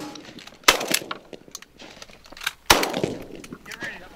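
Two sharp, loud shotgun blasts ring out about two seconds apart during an outdoor pigeon hunt, each followed by a fading echo, with scattered rustling and handling noise between them.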